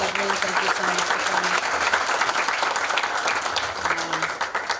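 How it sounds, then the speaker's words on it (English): Loud, sustained applause from an audience at a service dog graduation ceremony, a steady dense wash of clapping lasting throughout, with voices talking underneath. "Round of applause for you, Derek."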